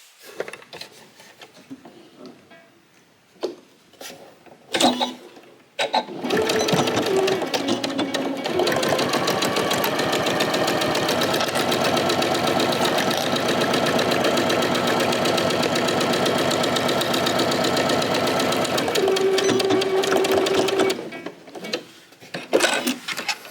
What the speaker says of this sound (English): we're going to top stitch along the top edge